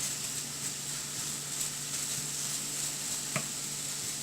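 Onions frying in a pan with cardamom and cloves for a spicy broccoli yogurt curry, a steady soft sizzle with faint scattered pops and a quiet stirring clack near the end.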